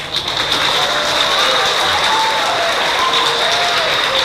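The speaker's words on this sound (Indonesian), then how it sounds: "Orang itu pun tepuk tangan ragu-ragu." Listeners at an Islamic preacher's lecture clap, a dense wash of crowd applause that holds at a steady, fairly loud level without breaks.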